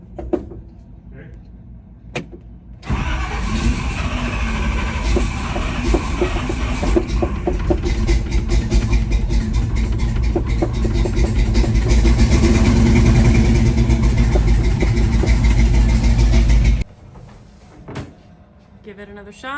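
Chevy C20 truck engine cranked and catching, a loud sustained run of about fourteen seconds after a brief crank, then cutting off, with people talking around it.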